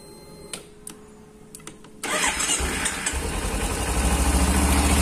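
A 2015 Kawasaki Ninja 250 FI with its stock exhaust: a few quiet clicks, then the engine fires and settles into a steady, close, gradually swelling idle.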